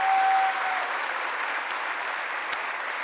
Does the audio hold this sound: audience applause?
yes